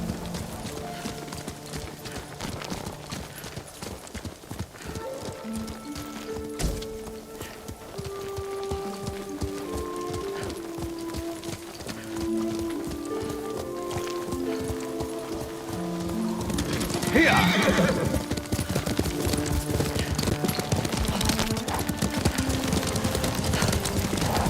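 A horse gallops in the video game Ghost of Tsushima, a steady rhythmic clip-clop of hooves under soft game music, growing louder and busier toward the end.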